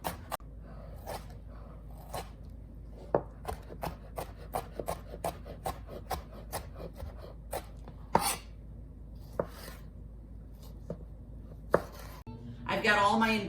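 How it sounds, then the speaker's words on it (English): A knife chops mango salsa ingredients on a big cutting board in a run of crisp, evenly spaced taps, slowing to scattered cuts with a rustle at the end. "I love this big board that I have because I can fit so many ingredients on here and just keep chopping"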